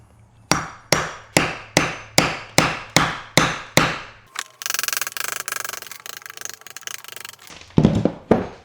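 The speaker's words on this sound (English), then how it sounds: "just start like kind of tapping that hole with my hammer. And if I don't have much luck there, I have a chisel." A hammer taps steadily at a thick plaster wall, about nine evenly spaced loud, close blows, followed by gritty scraping and crumbling as a chisel breaks through the plaster, then a few more heavy knocks.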